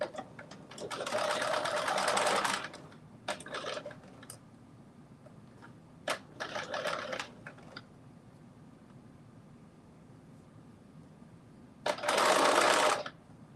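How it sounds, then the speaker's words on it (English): A sewing machine set to its longest stitch length runs a basting stitch in three bursts of whirring, one long, one shorter and a final brief run, separated by quiet pauses with faint clicks. "I'm adjusting my sewing machine to 5. That's my length of my stitch when I do a basting stitch."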